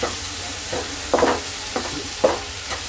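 Tomato, onion and green chilli fry in a pan, with a soft sizzle running underneath and a few distinct scraping stirs at irregular intervals.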